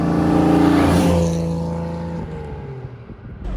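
A 1955 Mercedes-Benz 300 SL Gullwing, an original survivor, drives past loudly with a strong engine note that fades slightly as it moves on.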